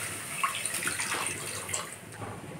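Milk pouring into a pan of oil for a sweet milk dish, a steady liquid splash and trickle that stays moderately loud and continuous for a few seconds with no talking.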